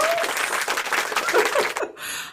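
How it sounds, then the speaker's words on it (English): A crowd claps and cheers steadily for a couple of seconds, the applause loud and dense before cutting off abruptly. "So with a round of applause."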